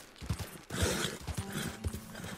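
A horse's hooves clip-clopping in Red Dead Redemption 2, quick uneven hoofbeats close by over a soft outdoor game ambience.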